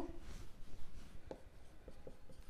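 A pen scratches across paper during a maths lesson on coordinate geometry, a string of short close strokes and taps in an irregular rhythm, quiet and without speech.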